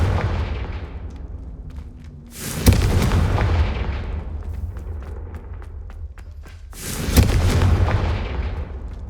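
In the Hogwarts Legacy video game, a Confringo spell sets off two deep, booming explosions about four seconds apart, each with a sharp onset and a rumbling tail over a low background.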